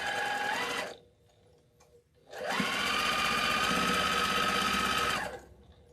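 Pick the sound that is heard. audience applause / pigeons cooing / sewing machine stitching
sewing machine stitching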